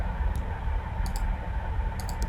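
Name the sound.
computer mouse clicking in Blender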